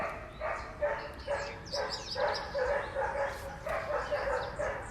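Several dogs bark repeatedly in a rapid, overlapping string of yaps and woofs indoors, moderately close, keeping up a near-continuous rhythm for several seconds.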